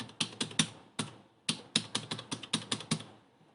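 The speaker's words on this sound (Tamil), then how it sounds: "சும்மா ரேண்டமாக ஒரு ஐபி டைப் பண்ணுறேன்." Rapid bursts of typing on a computer keyboard while entering an IP address into Windows registry proxy settings, about a dozen close, crisp key clicks in quick clusters with short pauses, no voices.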